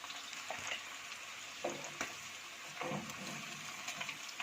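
Fish fries in a pan for spicy Lahori fried fish, giving a constant soft sizzle with a few light scrapes and clinks, faint and close, with no voices.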